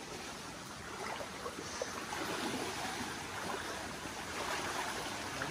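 River water flowing steadily near a deep well on a Konkan trip along the Mumbai–Goa highway, a continuous broadband rush with no breaks, fairly close and moderately loud.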